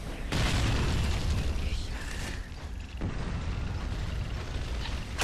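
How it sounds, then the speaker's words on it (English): Explosions in the shooter video game Gears of War, with heavy, booming blasts and rumbling bursts layered over continuous loud game noise, including a sharp hit near the start and another near the middle. "Explosions."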